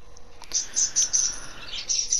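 Pet birds chirp in a quick series of bright, close tweets over a low background hum, with no voices.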